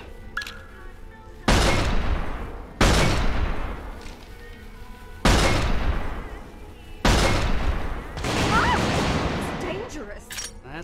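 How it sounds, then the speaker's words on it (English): Magnum revolver fired in Resistance 3, four heavy booming shots spaced a second or two apart, each with a long decaying tail, loud and close over a rumbling game backdrop. "Mind showing my mom how you fire a Magnum?"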